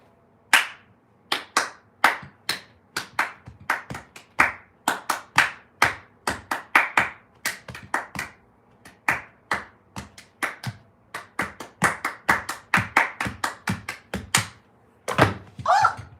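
A single person claps a rhythmic beat with bare hands, sharp close claps in a steady repeating pattern with brief pauses and a few quicker doubles, heard alone in a quiet room.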